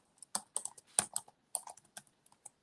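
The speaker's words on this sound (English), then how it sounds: "Y'all hear me typing away." Keys clatter on a computer keyboard in quick, uneven bursts of sharp clicks, close and fairly quiet, with short pauses between strokes and no talking.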